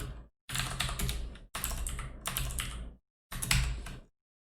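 Dense bursts of rapid typing on a computer keyboard, three or four loud close flurries separated by brief silences, with no talking.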